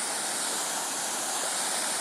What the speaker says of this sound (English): It's a nice water fountain and sculpture.